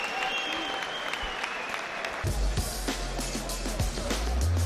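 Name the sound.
boxing crowd applause in Dublin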